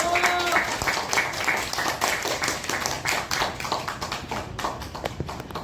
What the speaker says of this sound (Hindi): अभी जोरदार एक बार ताजा भैया के लिए ताली बजा दीजिए।